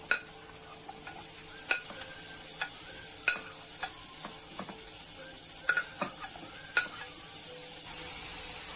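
Onions fried golden brown with green chili and freshly added peppers sizzle steadily in a pan, a continuous close hiss broken by scattered sharp taps and scrapes of a stirring spoon, with no voices.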